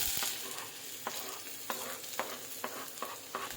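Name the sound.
chopped onions frying in hot oil in a pan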